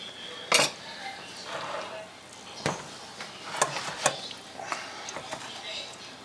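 A spoon carves into a Mexican lasagna in its baking dish, giving a few sharp clinks and scrapes against the dish amid soft rustling, close but fairly quiet.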